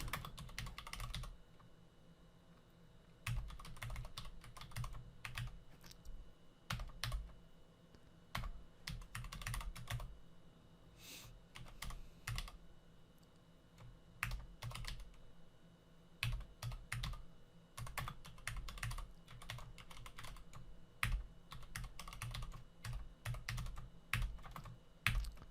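Steady typing on a computer keyboard while writing code for an Arduino button-input program, with bursts of close key clacks and short pauses throughout, no talking.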